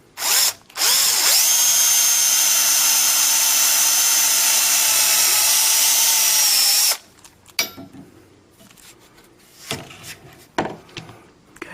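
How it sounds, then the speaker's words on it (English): Power drill boring a peg hole through a wooden window sash: a steady, loud high whine for about six seconds after a brief start, then stopping, followed by quiet handling knocks and clatter. "Just drill the hole."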